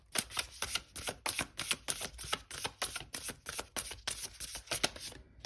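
Rapid, crisp riffling of tarot cards being shuffled, repeated flutters in a steady rhythm, close and clear with no talking.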